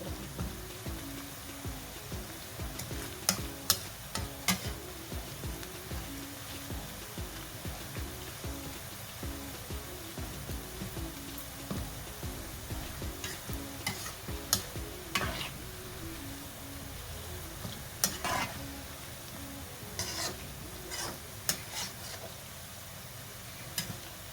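Onions browning in hot oil in a pan crackle and sizzle steadily at low volume, with scattered scraping clicks as they are stirred.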